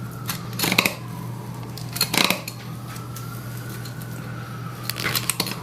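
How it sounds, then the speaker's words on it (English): A butchering knife clicking against goat ribs as meat is cut away from the vertebrae, sharp close clicks in three short bursts over a steady low hum, without speech. "I hear that clicking. That's because I'm hitting the ribs."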